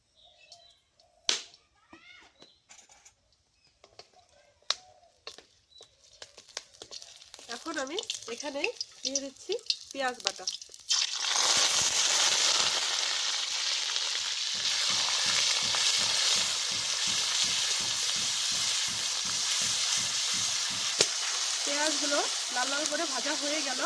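Bay leaves and whole garam masala drop into hot oil in a wok. Scattered clicks and a brief voice come first, then a loud, close, continuous sizzle with rhythmic stirring scrapes over it.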